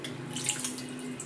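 Water is poured into a mixer grinder jar used for spice paste, making a soft, steady splash up close for a brief moment.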